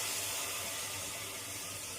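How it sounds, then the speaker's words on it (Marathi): Water poured into hot fried spice tempering in a wok gives a faint, steady broad hiss and sizzle that carries on without a break. "आता मी पाणी ओतते."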